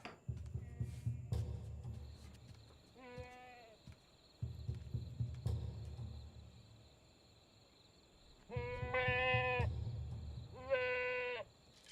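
Goats in a pen bleat in several distinct calls, two pairs spaced apart and loud up close, over a low humming, throbbing background and occasional knocks.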